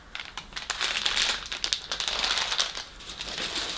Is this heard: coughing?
no